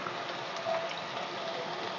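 Ginger garlic paste frying with half a kilo of chicken in a pan for chicken pachadi, giving a steady, fairly faint hiss that stays even throughout with no voices.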